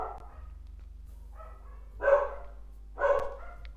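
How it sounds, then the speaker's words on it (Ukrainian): A dog barks a few times at a distance, with two louder barks spaced about a second apart over a low steady hum. "Я так люблю, коли собака починає гавкати"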